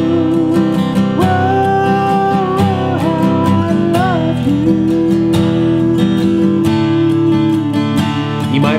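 Guitar riff from a song, a connecting phrase leading into the instrumental section, with picked notes over ringing chords, steady and close, no talking.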